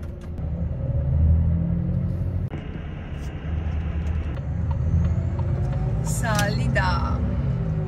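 A vehicle pulls away from a fuel station, its engine making a steady low rumble that swells and holds for several seconds, with a brief higher squeal or whine near the end.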